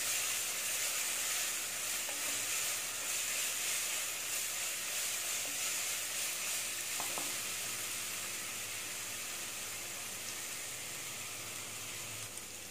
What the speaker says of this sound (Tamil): இந்த பச்சை வாசனை போகிற வரைக்கும் லைட்டாக அந்த எண்ணெயில் வறுக்கணும்.